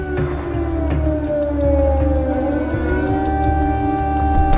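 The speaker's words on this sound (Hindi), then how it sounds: "ऐसे ही एयर अटैक के सायरन बज रहे हैं" A loud, wailing air raid siren warning of an air attack in Ukraine rises and falls steadily, its long droning tones filling the air without pause.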